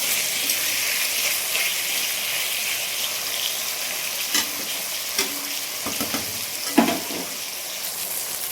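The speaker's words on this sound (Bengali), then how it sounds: "দিয়ে আলুটা একটু ভেজে নিলাম।" Potato pieces fry in a pan with oil, a steady loud sizzle running throughout, broken by a few scraping stirs and clinks.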